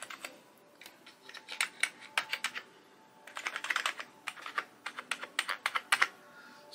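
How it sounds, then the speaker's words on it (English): Keys clatter on an original Amiga 500 keyboard in quick irregular bursts of crisp clicks with short pauses between runs, close and clear with no talking. "when you press one of the keys, you should get a red sort of indicator light to let you know that you're pressing the key"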